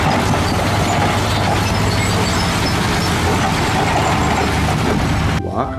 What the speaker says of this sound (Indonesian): Widih, di sini ada mobil dump truk.